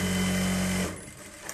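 A sewing machine stitches dress fabric for a Bharatanatyam costume, a close, loud burst of rapid stitching that stops abruptly after under a second, leaving quiet room sound.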